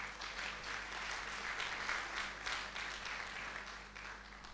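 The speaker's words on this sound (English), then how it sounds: "A round of applause to our inductees." Steady applause from an audience greeting nursing inductees at a B.N.Sc induction ceremony, a continuous even patter of many hands held at moderate loudness throughout, with no talk over it.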